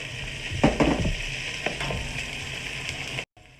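Peas are tipped into a pot of simmering chicken stock with garlic and onion for a chicken, corn and vegetable soup, giving a burst of rattling and splashing that settles into a steady loud sizzle before cutting off abruptly.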